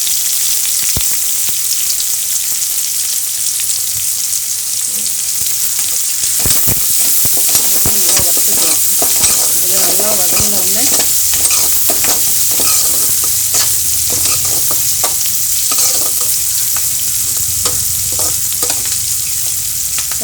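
Green chilli, onion and curry leaves frying in oil in a kadai, a loud close hiss and crackle with bursts of spatula stirring and scraping in the middle, continuous, with no voices.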